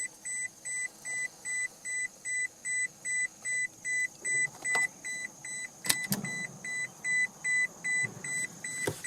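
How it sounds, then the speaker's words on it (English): Electronic beeping repeats in an even rhythm of short, clear pulses, about two per second, near and moderately loud, with a few clunks and handling noises breaking in midway. "Get rid of beeping for you."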